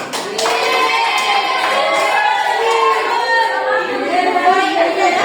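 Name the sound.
classroom applause for a student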